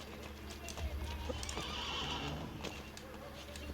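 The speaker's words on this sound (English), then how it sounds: "Horse! Horse!" A horse whinnies and hooves clip-clop nearby in Assassin's Creed Brotherhood, a brief burst of game sound effects, with some faint background noise.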